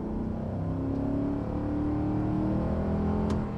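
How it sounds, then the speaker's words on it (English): Naturally aspirated V8 of a Ford Bronco revving steadily, a loud close engine drone with rising and falling harmonics throughout, no talk. "How about a little naturally aspirated V8?"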